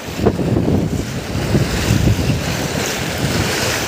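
Rough water waves slapping and surging around a boat during a river or sea crossing, loud and continuous with buffeting wind noise and no voices.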